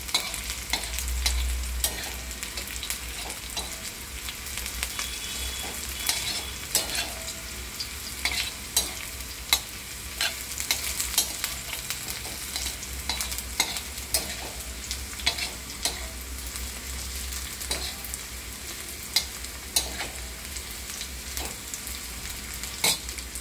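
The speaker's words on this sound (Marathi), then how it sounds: "आता हा कांदा भाजला आहे, थोडासा लाल होत आला आहे।" Chopped onion frying on a flat iron tawa while methi is prepared, giving a steady, close sizzle with frequent small crackles and occasional stirring scrapes throughout, no voices.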